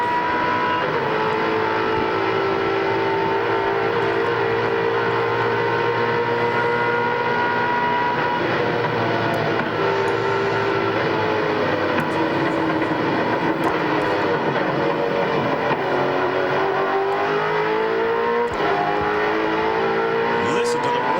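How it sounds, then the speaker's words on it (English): A Chevrolet V8 race car engine roars steadily down Conrod Straight at Bathurst during the 2001 Bathurst 1000, loud and sustained with shifting pitch as cars close in. "Listen to the roar of that Chevrolet V8 as Larry Perkins closes in on the back of Tony Longhurst."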